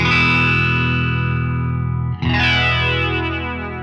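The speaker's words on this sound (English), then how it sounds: "So let's check out this flanger." An electric guitar runs through a grey flanger effect on a Line 6 Helix, giving two sustained, distorted strummed chords with a sweeping, whooshing comb-filtered shimmer. A brief break separates the chords, and the sound rings out loud and close.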